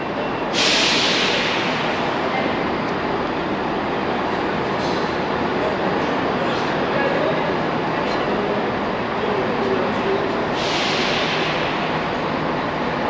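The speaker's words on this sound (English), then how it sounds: "And over here are where all the trains are." A train rumbles steadily at Marylebone station in London, with a sharp hiss near the start and another toward the end.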